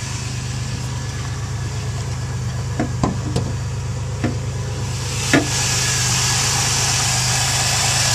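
A 2001 Chevy Camaro's 3.8-liter V6 with an aftermarket air filter idles steadily at close range, a smooth low drone with a few faint clicks and taps over it.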